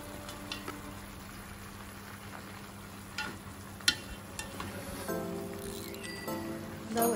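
Chicken and cabbage frying in a pan, a soft continuous sizzle broken by scattered scraping and clacking knocks as the mix is stirred, faint and close.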